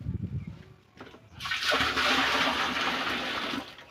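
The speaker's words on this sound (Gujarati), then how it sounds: "તો આપણે ચાલો બેરલમાં નાખીશું વારા ફરતી। પ્રથમ આપણે ગૌમૂત્ર નાખીશું" Cow urine is poured into a barrel, a sudden steady gush of liquid splashing loudly and close for a couple of seconds before stopping.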